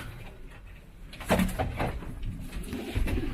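Racing pigeons coo softly in low, throaty tones, a few short calls rising over steady background noise.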